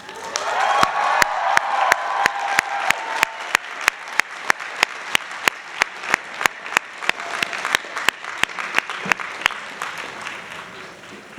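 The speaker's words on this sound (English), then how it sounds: "Let's hear a big cheer to this moment and a huge congratulations." Applause at a GSAPP graduation ceremony: a crowd claps steadily for about ten seconds, with sharp loud claps standing out near the microphone and a brief cheer early on, no talking.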